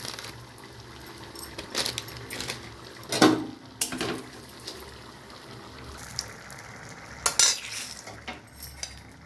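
Light stirring in a pan just off the gas after asafoetida, with red chili tossed in for spinach chana dal: scattered utensil scrapes and clinks, a few sharper knocks, a faint sizzle beneath, no voices.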